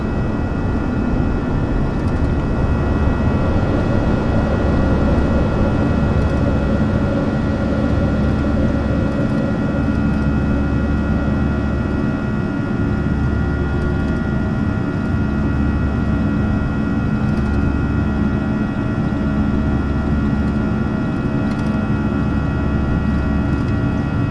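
Airbus A320 jet engines climbing after takeoff in the X-Plane 11 flight simulator with an add-on sound pack, a loud, steady, unbroken roar with deep rumble and a constant whine, no voices.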